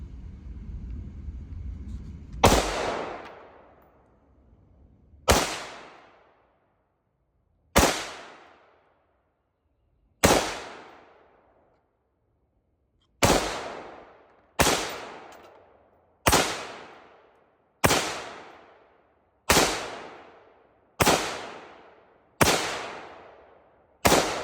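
A Diamondback DB15 rifle fires eleven sharp, loud shots at the range, each cracking and ringing out briefly. The first few shots are spaced a few seconds apart, then the rest come in a quicker, steady string.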